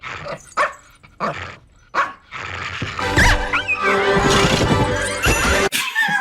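A dog barks in a film scene: sharp separate barks at first, then a loud crash with yelping and chaotic noise that carries on to the end.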